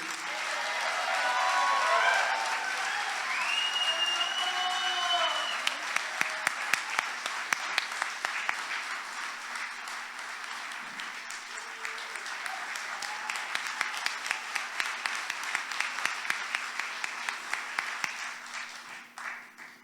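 An awards-ceremony audience at the 2022 Raleigh Medal of Arts applauds honoree Paul Friedrich, with steady, fairly distant clapping that swells and continues for nearly twenty seconds, punctuated by a few sharper individual claps and faint voices.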